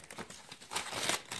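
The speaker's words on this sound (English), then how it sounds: "hand me those scissors so I can open this part up." Plastic and cardboard packaging of a Kid Kraft Shimmer Mansion Barbie dollhouse being cut open, giving close, busy crinkling and tearing noises that swell toward the end.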